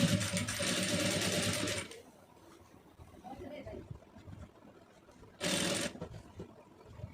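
A sewing machine stitches a piping design in two bursts of fast, close whirring, with a pause between them where a voice talks quietly.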